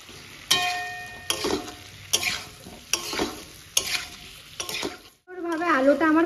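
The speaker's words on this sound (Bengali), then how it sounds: "ভাজা আলুগুলো দিয়ে দেবো।" Fried potatoes stirred into a spice masala in a pan, about seven evenly spaced scraping strokes over a soft sizzle, close by, then a brief pause and a short voice at the end.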